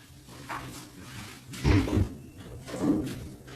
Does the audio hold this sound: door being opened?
yes